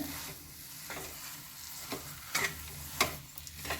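Spoon stirring sugar into moong dal halwa in a pan, producing soft scraping and a faint sizzle, with a few sharper clinks and scrapes spaced irregularly, close and fairly quiet, no voices.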